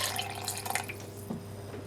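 Water poured into a cashew sauce mixture of garlic and salt, a steady close splashing trickle of liquid running for the whole short stretch with no talking.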